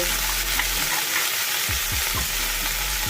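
A little water added to flat beans frying in a pan sets off a loud, close, continuous sizzle and hiss, with a low bubbling underneath.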